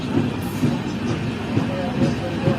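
Janshatabdi Express passenger train running on rails between Tiruchirappalli and Thanjavur, a steady rumbling roll with rhythmic clicking beats over the track, heard from inside the carriage and fairly loud throughout.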